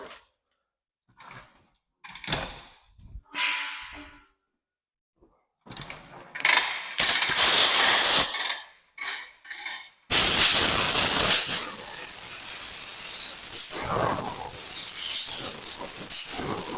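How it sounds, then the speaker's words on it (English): Bursts of compressed air blowing dust off a Toyota Tundra truck windshield, loud hissing blasts close by in short spurts, then a long sustained spray, broken by small clicks and handling noises. "Just gotta blow off some of this dust."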